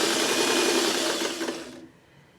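A sewing machine stitches two pieces of fabric together, running with a steady whirring hum for about a second and a half before stopping abruptly, leaving only faint room noise.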